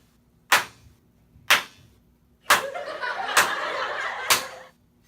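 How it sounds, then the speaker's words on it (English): A single person's sharp hand claps between parallel walls in a room, five crisp separate claps spaced about a second apart, each followed by a brief ringing flutter of echoes, with some faint background noise between. "So when I clap, you can hear some bouncing back and forth like this."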